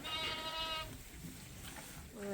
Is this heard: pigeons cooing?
no